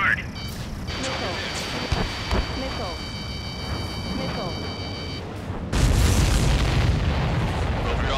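Missile explosions booming during an aerial dogfight in Ace Combat 7, several loud blasts and rumbling impacts over engine roar and music, growing heavier and denser toward the end.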